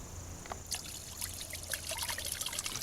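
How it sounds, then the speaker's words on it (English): Water pumped over a basalt rock bubbler trickles and splashes steadily in a garden water feature, a continuous light dribbling close by with no talking. "The motion of the water coming off the rock is going to provide the interest."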